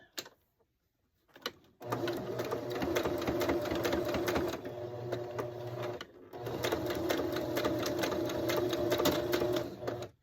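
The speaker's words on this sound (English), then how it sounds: "I'm zigzagging the hat band on." A sewing machine zigzag stitches a hat band onto a candy cane cowboy ornament. After a brief start it runs in a fast, steady mechanical chatter, stops for a moment, then runs again at close range.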